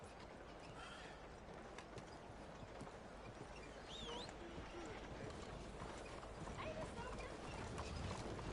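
Horse hooves clip-clop at a steady walking pace in the Red Dead Redemption 2 video game, fairly faint beneath game ambience, with voices talking over it.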